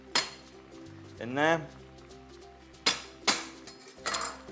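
Chili being bashed in a cooking pot for a simmering dish gives a few sharp metallic clinks and knocks, spaced irregularly, close and fairly loud, with a brief voice speaking in between.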